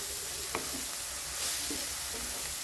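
Chili and spices frying in a pan for chicken curry make a low, steady sizzle, with a couple of soft stirring scrapes; fairly quiet, with no talking.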